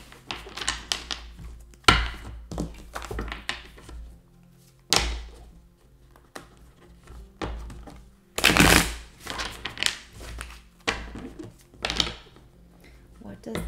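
Tarot cards are shuffled in repeated short bursts of riffling and slapping, with thuds as the deck is tapped on a table, while a person speaks between and over the shuffles.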